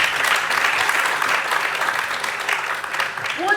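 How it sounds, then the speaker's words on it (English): Loud, dense applause from a film festival audience, steady crowd clapping for sponsors that stays full for a few seconds. "I think we all owe them a clap."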